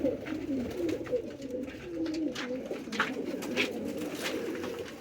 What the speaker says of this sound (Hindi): कबूतर बहुत है